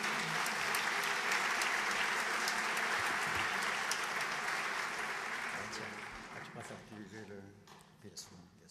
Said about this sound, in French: à savoir Thierry Dassault, que vous pouvez applaudir.